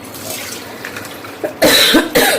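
A couple of sharp, close coughs burst out near the end, following a quiet stretch of faint background noise.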